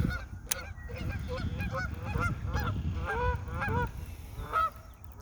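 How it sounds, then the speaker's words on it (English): Geese honk from across the water during an afternoon of bass fishing, a run of about eight nasal calls in an uneven series, moderately near and clear over faint background noise. "Hopefully you guys can see them geese over there."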